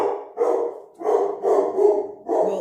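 A dog barks repeatedly in a home kitchen during cooking, about five loud, close barks in quick succession with short gaps between them and no talking.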